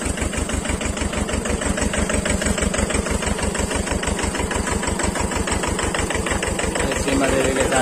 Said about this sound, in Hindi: ये है महिंद्रा का जीवो 245 ट्रैक्टर